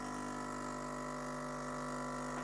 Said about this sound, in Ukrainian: Так, робимо потенційно перегрітий шот, як отой перший, той, що був гіркий.